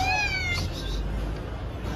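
A pregnant cat meows indoors in a home, a couple of short rising meows near the start followed by quiet room noise.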